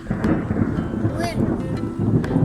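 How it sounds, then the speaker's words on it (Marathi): Deep rolling rumble of thunder after strong lightning, with gusty wind noise buffeting the microphone, a storm at a home in Kurduwadi, India, sounding close and heavy throughout. "इथं काय आणि आता लाइटनिंग झाली आहे खूप जोरात"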